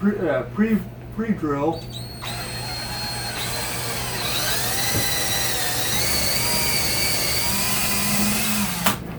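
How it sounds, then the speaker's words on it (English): A person talks briefly, then a power drill with a small bit whines steadily for several seconds, its pitch shifting slightly as it pre-drills into a wall stud, stopping near the end. "And what I always like to do is do a pre-drill"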